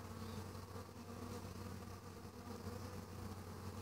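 Honey bees buzz at the entrance of small five-frame deep hives on Whidbee Island: a dense, continuous, even drone of many insects nearby, with no voices.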